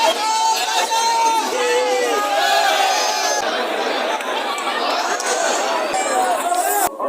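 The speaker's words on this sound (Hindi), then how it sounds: "क्या क्रेजी भीड़ है भाई" A large crowd of pilgrims at the Mahakal temple in Ujjain, continuous loud chatter and babble of many voices close around, with individual shouts rising above the steady hubbub.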